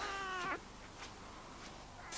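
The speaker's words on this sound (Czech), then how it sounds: "Zažeň tu kočku!" A cat gives one drawn-out meow at the start, fairly close and clear, then near silence with faint room noise, ending in a sudden loud burst.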